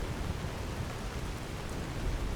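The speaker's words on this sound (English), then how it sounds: "I thought maybe it was the rain was stopping, but we were under an overhang" Steady rain falls in Skyrim Special Edition, a dense continuous hiss of broadband noise with low rumble, constant and moderately loud throughout, with no voices.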